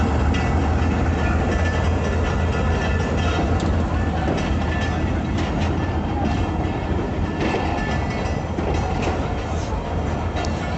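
Passenger train travelling from Sibi junction toward Quetta in Balochistan, a loud, steady rumble with rhythmic clickety-clack of the wheels heard from aboard, a voice talking faintly underneath.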